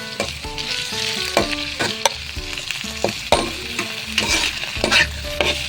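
Mushrooms frying in a pan for tuna carbonara are stirred, giving a continuous sizzle broken by repeated scraping and clacking strokes of a utensil.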